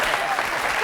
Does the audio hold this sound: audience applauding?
yes